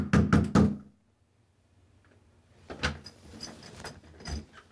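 A sheriff's deputy pounds on a door three times in quick succession, loud and close, followed by quieter rattling and shuffling handling sounds with a few more thumps.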